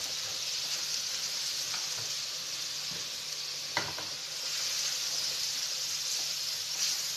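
Small pieces of chicken breast fry with onion in a pan, a steady close sizzling hiss with a few faint clicks and stirring knocks, no talking.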